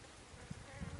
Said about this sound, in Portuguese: As abelhas estão zunzando aqui.